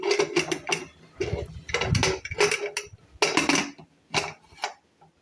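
Metal clanks and scrapes in several short bursts as a pressure cooker lid is fitted and twisted shut over chicken feet soup, close by.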